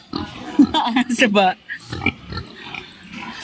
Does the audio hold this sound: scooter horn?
no